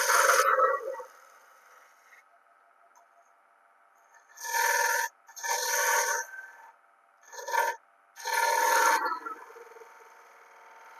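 Gouge carving confined beads in wood, several short rasping scrapes in separate bursts of a second or so, close and moderately loud, with quiet gaps between strokes and no talking.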